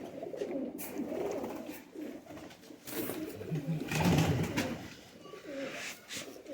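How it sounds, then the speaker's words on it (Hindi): Pigeons cooing nearby in soft, low, repeated rumbling calls, with a few faint clicks and rustles around them. "ये नर कबूतर है।"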